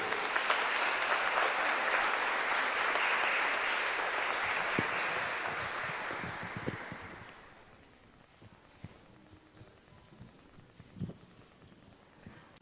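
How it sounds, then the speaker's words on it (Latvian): A gathered audience at a Medjugorje catechesis talk applauds the guest, dense sustained clapping for about seven seconds that fades out, leaving quiet room noise with a few scattered thumps. "Un vēlreiz aplausus mūsu viesim."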